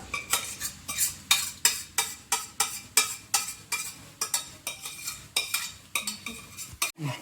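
A spoon stirs mashed vegetables in a pan for pav bhaji, giving rhythmic scraping strokes against the metal, about two per second, close and steady with no talking.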